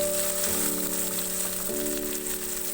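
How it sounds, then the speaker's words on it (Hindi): Finely chopped tomato frying in a pan over medium flame for samosa chaat, giving a continuous close sizzle with a steady tonal hum underneath. "1 टमाटर शामिल करूंगी, जिसको मैंने बारीक बारीक चॉप कर लिया है। इसको भी थोड़ा सॉफ्ट होने तक पकाएंगे।"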